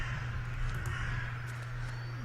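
Crow-like caws from a bird ambience in the video game The Last Door play over a steady low hum and faint hiss, a few harsh calls scattered across a couple of seconds at moderate distance.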